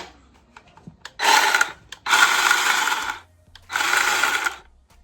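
A Craftsman battery-powered electric chainsaw runs its chain in three separate bursts of buzzing, whirring motor noise, close by, with short quiet gaps between them.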